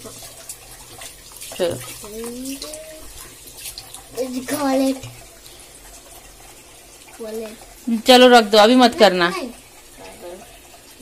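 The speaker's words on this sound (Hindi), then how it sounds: "पानी बंद कर" A tap runs water at home while a child is being washed, a steady splashing hiss beneath several bursts of close talking.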